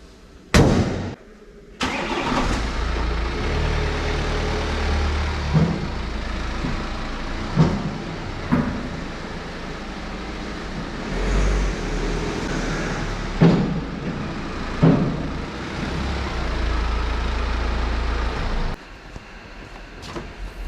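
A BMW car with a B47 diesel engine cranks and fires, then runs steadily as it pulls away and drives, with a constant engine drone and a few brief bumps over about twenty seconds.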